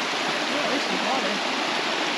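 Waterfall beside the Colorado River, a loud, steady broadband rush of falling water filling the whole stretch without pause.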